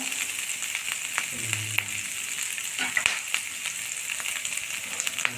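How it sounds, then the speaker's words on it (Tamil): Chopped ginger fries in hot oil with a steady, close hiss and fine crackling, broken by occasional soft stirring scrapes. "நல்லா பொரியட்டும் இஞ்சி"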